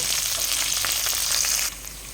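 Onion with green and dried chillies frying among spluttering mustard seeds in hot oil for lemon semiya pulihora, a loud close sizzle with crackling pops that cuts down sharply near the end.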